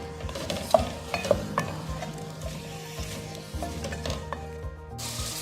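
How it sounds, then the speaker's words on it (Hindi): Chopped onions sizzle steadily in about three tablespoons of hot oil in a pot, with occasional stirring scrapes and clicks close by. No one talks. "ऑयल में हम प्याज डाल देते हैं और इसको फ्राई करते हैं"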